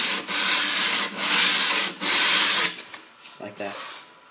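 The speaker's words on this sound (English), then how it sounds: "I'm just smoothing the surface out with a piece of sandpaper" Sandpaper rubbing across a wooden buckler surface, three long loud strokes of broadband scratchy friction with brief gaps, then fainter short rubs at the end.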